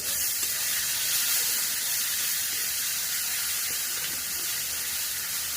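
Ground spice paste and four green chillies sizzle in hot oil for a Bengali soybean curry with pumpkin and drumsticks, a steady, close, bright hiss that holds evenly throughout with no talk.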